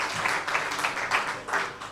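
Audience applause for Johnny Caldwell, honoured for a recent big birthday at a music album launch, a dense wash of clapping that swells in brief pulses and stays moderately loud throughout.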